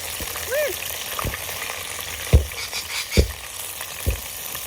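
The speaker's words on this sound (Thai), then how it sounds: "เราจะใส่รากผักชีไปเพราะมันจะกระเด็นมั้งเพราะรากผักชีนี่เราแช่แข็งเอาไว้" Frozen coriander roots frying in hot oil at an outdoor backyard dinner, giving a steady close sizzle broken by several sharp popping splatters, with a brief squeaky tone early on.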